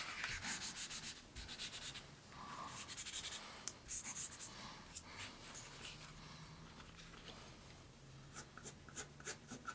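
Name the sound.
eraser rubbing on paper while shading portrait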